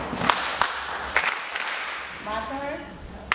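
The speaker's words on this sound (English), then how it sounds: "you're going to follow me with my hand claps" Sharp, separate hand claps ring out at a leisurely pace at a children's show warm-up, a few single claps with a brief voice between them.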